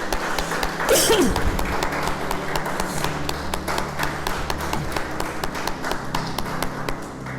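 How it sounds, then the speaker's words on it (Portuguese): A church congregation claps in praise during a sermon, a brisk run of sharp, fairly regular claps carrying on throughout over a low background hum. "Aplaudir o Senhor."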